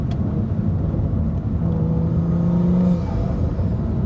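A BMW F30 with the N55 turbo engine at Stage 2, fitted with an XDI-35 high-pressure fuel pump, drones steadily from inside the car, then gives a brief rising whistle before easing off, with no talk.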